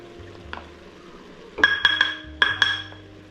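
Ingredients going into a pot of homemade goulash, with sugar as the last addition, followed by a quiet sizzle and a few close, sharp spoon clinks and scrapes against the pot in two short bursts.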